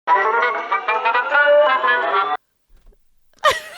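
A 1985 heavy metal song plays loud and dense with distorted guitars and a sung line for about two seconds, then cuts to silence before a brief sharp noise.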